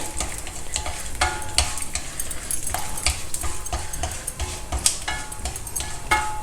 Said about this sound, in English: Fry it till the nuts and dals are well roasted